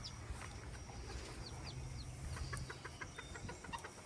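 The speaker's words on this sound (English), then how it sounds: "The mama chicken." A hen clucks softly in short repeated bursts over a steady low background hum, fairly faint and distant.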